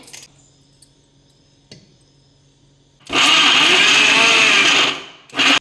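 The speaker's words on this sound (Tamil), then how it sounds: "நான் பொரியோடு சேர்த்து கொஞ்சமாக பால்கோவாவையும் போட்டு அடிச்சுக்கிட்டேன்" A mixer grinder whirs loudly for about two seconds as it blends puffed rice with palkova, then stops; a short second burst follows, with quiet clinks and handling noises before it.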